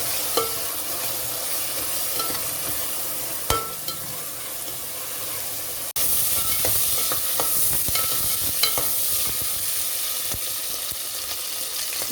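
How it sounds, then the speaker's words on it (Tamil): Tomatoes fry in oil until the oil separates for a ghee rice and coconut milk pulao, a steady close sizzle broken by sharp spoon-against-pan clicks and scraping stirs. "ரெண்டு தக்காளி அதையும் ஆட் பண்ணிக்கிறேன் ஆட் பண்ணி இந்த எண்ணெய் நல்லா பிரிஞ்சு வரும் இல்லையா அது வரைக்கும் வந்து வதங்கணும்"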